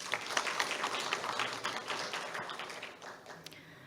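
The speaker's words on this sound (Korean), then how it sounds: "여러분들의 큰 박수로 함께 시작하겠습니다" Audience applause in a conference hall opening a construction-industry occupational health and safety seminar, a dense patter of many hands clapping that fades gradually toward the end.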